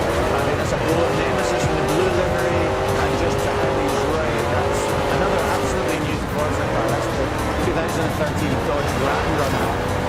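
Off-road racing cars, including a Dodge Ram Runner, climb a hill in Forza Horizon 2, with loud continuous revving engines shifting pitch and tire noise throughout while a voice talks over them.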